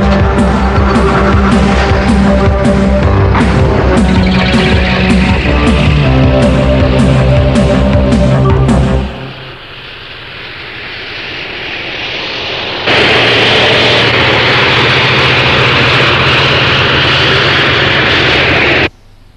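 A vehicle engine in an animated military film roars loudly and steadily for about nine seconds, drops to a lower hum, then surges back to a loud sustained drone until the end, with no talking.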